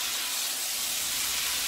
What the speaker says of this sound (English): I just need these to simmer just a little while longer